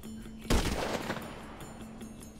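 A loud gunshot blast with a ringing tail bursts out in the GTA 5 video game, followed by noisy in-game background rumble.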